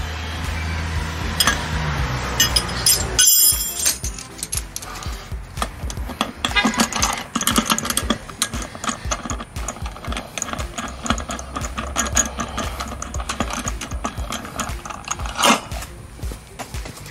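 A wrench works on a minibike wheel bearing during an engine swap, giving rapid ratcheting clicks that run almost continuously, moderately loud and close, with a sharper clatter near the start.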